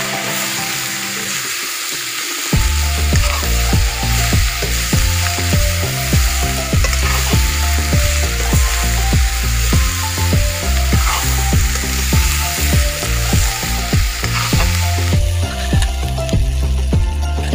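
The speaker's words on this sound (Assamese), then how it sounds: "পিঁয়াজ ৰচুন আদা ধুনীয়াকৈ সিজালৈকে ইয়াক ধুনীয়াকৈ ভাজি থাকিম মই এতিয়া" Onion, garlic and ginger fry with pork in a hot pan, a loud steady sizzle with stirring scrapes running throughout, alone without talk.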